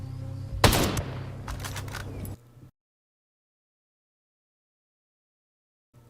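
Gunshots from the video game Ghost Recon Breakpoint: one sharp loud shot followed by a short rattle of further reports and mechanical clatter, then silence for several seconds before a faint noise returns.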